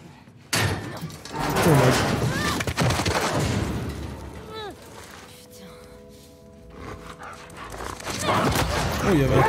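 A dog barks in the video game The Last of Us Part II, several sharp barks mixed with slams and impact sounds, loud and close, alongside game noise and a voice speaking.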